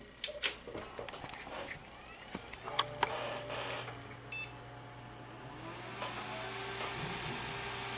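A brief, moderately loud electronic beep sounds from a newly built desktop PC's motherboard on its first power-on, over the steady low hum of the CPU and system fans spinning up.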